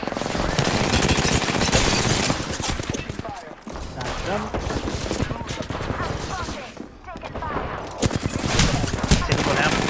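Dense rapid gunfire in an Apex Legends match, with several automatic weapons rattling loud and close almost nonstop, a few brief pauses, and layered shots from more than one gun.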